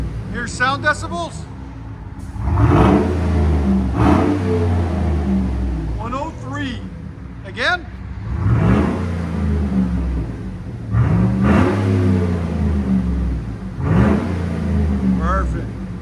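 Chevy Tahoe 5.3L V8 fitted with a Carven R-Series exhaust, revved repeatedly in short, deep bursts that swell and drop back to idle, close and loud, with someone speaking briefly between revs.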